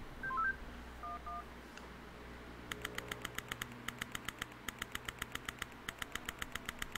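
Telephone keypad tones in The Henry Stickmin Collection game: a fast, even series of short dialing beeps, clear and steady, preceded by a few softer chirping tones.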